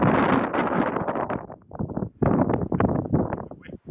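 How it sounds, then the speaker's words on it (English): Strong high-desert wind of about 50 mph roars and buffets the microphone in loud, uneven gusts, with brief lulls between blasts. "It's doing its best to blow my camera over right now."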